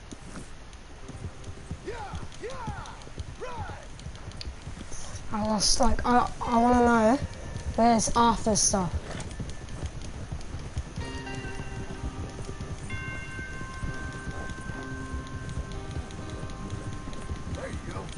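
Horses' hooves clip-clop at a steady walking pace in Red Dead Redemption 2, running under people talking, with a louder stretch of voices in the middle and some tonal game sounds later.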